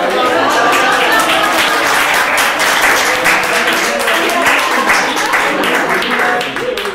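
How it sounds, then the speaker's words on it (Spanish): Applause in an instructor-led course session, sustained and fairly loud for about seven seconds, with a dense, even texture and some crowd voices mixed in beneath the clapping. "Un aplauso, maestro."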